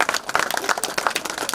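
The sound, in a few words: congregation clapping at church opening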